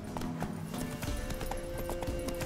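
Roach, the horse in the video game Witcher 3, gallops with rhythmic, close clip-clop hoofbeats over a low musical bed.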